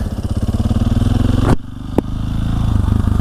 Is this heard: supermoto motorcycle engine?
yes